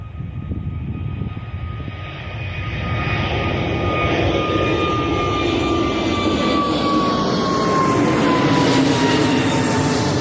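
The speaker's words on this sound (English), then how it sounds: "Early rotation for the 320 Neo heading out to Amsterdam this morning." An Airbus A320neo takes off at Bristol Airport, bound for Amsterdam, its jet roar building from a moderate rumble to a loud, sustained sweep with a rising whine as it climbs past, no voices over it.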